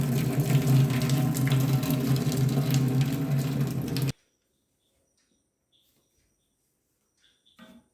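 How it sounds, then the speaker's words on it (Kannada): Water from boiled bamboo shoots pours steadily out past a plate held over the pot, a loud continuous splashing stream that stops abruptly partway through, leaving near silence with a few faint ticks. "ಈ ರೀತಿ ಒಂದು ಪ್ಲೇಟ್ ಮುಚ್ಚಿ ನೀರು ಬಸಿದುಕೊಳ್ತಾ ಇದ್ದೇನೆ"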